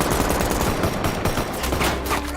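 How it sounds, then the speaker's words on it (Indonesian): Dense automatic gunfire and shots from a film shootout, loud and continuous throughout with a low rumbling bed beneath. "terjadilah baku tembak antar mereka"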